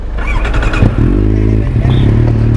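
A Simson SR50 moped engine revs and rattles up close, its buzzing two-stroke note climbing and then holding steady while the moped is ridden.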